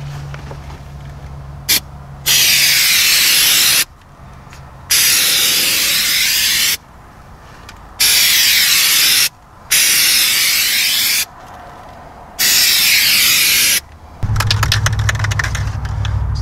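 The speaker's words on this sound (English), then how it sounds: "This stuff does come out pretty thick in a very narrow spray pattern." Rattle-can bedliner sprayed onto a primed, worn door sill of a vehicle, coming out thick in a narrow pattern; loud, close hissing bursts of a few seconds each, separated by short pauses.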